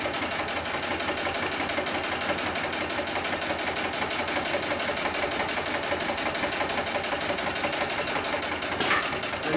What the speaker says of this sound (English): then we'll go ahead and sew through 4 layers of this heavy-duty webbing. And again in reverse.